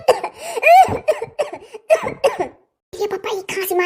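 Harsh coughing bursts mixed with excited voices, loud and close, with several short rough outbursts.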